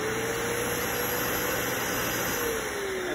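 Menards commercial carpet cleaning machine running with suction and rotating brush engaged, a loud, steady motor roar and airflow drone with a faint shifting whine, continuous throughout.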